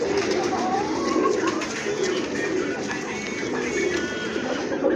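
Pigeons coo and murmur steadily throughout, several birds close by, with a continuous soft rustling background.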